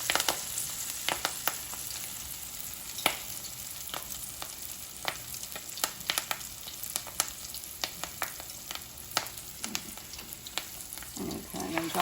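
Squished kale balls frying in hot oil, a steady dense sizzle with frequent sharp pops and spatters throughout, close and fairly quiet, with no talk.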